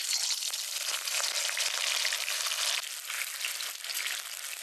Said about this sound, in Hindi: पनीर को फ्राई करेंगे।